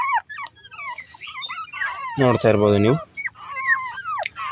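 Young beagle puppies whimper and squeal in high, wavering cries close by, with a short louder yelp midway, while a person speaks briefly.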